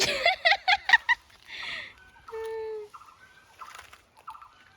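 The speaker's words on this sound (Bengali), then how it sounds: "ওইদিকে খসখস করে কিসের আওয়াজ হচ্ছে বাবা মুরগি" A bird calls in rapid bursts, a quick run of loud clucks followed by longer drawn-out squawks and a few softer notes, close by with little else around.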